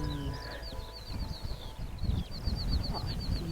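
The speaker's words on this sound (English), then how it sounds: "Birds singing, sheep." Outdoors on a fine day in West Wales, a bird repeats a short chirping phrase over and over, moderately distant, over low rumbling wind and background noise.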